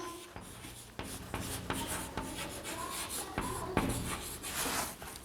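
Pen or pencil writing out a number's expanded form during a sixth-grade maths lesson, steady scratchy strokes with small taps, close-up and continuous, with no voice.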